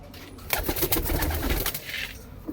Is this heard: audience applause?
no